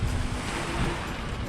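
Sea surf along the Antalya shore, a steady broadband wash of waves rolling in with wind, continuous and fairly loud throughout the short stretch, with no voices.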